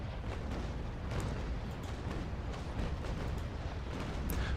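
Cannons on a sailing warship fire in the naval battle game Naval Action, rendered as a sustained dense rumble of overlapping booms at steady loudness, with no talk.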